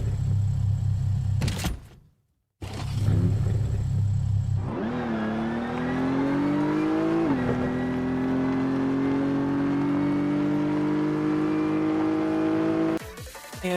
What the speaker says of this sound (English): let's go ahead and take it out for a spin, see how it sounds.